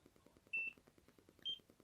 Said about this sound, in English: it gives a little beep.